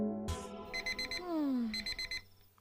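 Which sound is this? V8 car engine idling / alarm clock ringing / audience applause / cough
alarm clock ringing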